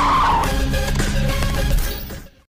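A car skids with a screeching tire squeal in a chase scene from the 2014 Indian action film Jilla, as one car cuts off another. The squeal is loud and close for about two seconds, then cuts off sharply into silence.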